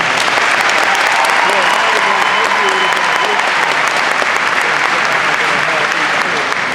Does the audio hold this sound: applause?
yes